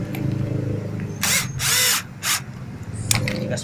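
A power drill tightens the mount of an aftermarket projector headlight on a Honda Vario 150 motorcycle, sounding in several short, loud whirring bursts over a low background hum.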